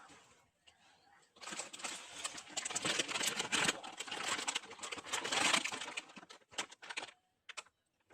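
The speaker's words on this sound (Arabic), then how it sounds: "اسمعوا صوت القرمشة كده اهو" A cheap plastic bag holding a toy and an eraser is squeezed and crinkled up close, making a dense, crackling rustle that runs for several seconds before thinning into scattered crackles.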